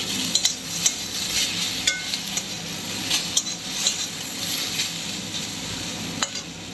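Potato curry with turmeric, Kashmiri chilli and coriander powder fries in a pan, a soft sizzle with intermittent utensil clinks and stirring scrapes against the metal, close and unaccompanied by speech.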